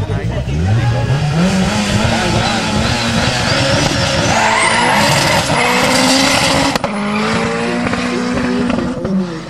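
An 800 bhp Cosworth-powered drag race car weighing 1100 kg launches on a quarter-mile strip in Sindal, Denmark, its engine roaring loudly and rising in pitch as the tires squeal and skid, with voices over the din.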